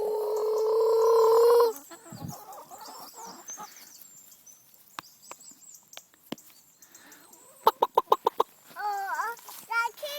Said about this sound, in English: Oh, the chickens.